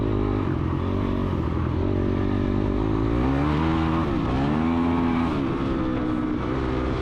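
A dirt bike engine during a woods race, droning steadily close by, then its pitch climbs and holds as the rider exits a corner and opens to wide open throttle.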